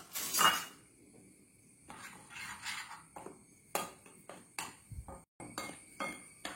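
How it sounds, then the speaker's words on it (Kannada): A spoon scrapes and clinks against a bowl while gram flour is mixed with salt, in a series of light, irregular metallic taps and scrapes, quiet and close, with no talking. "ಇನ್ನು ಈ ಒಂದು ಕಡಲೆ ಹುಡಿಯನ್ನು ಇದಕ್ಕೆ ಹಾಕಿ ಮಿಕ್ಸ್ ಮಾಡ್ಕೊಳ್ಳೋಣ"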